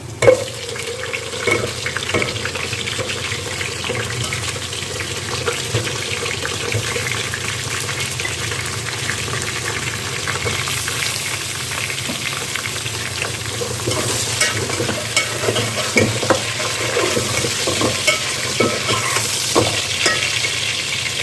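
Steady sizzling and frying of mutton with browned onions in a pot with occasional stirring scrapes, continuous and moderately loud, no talking.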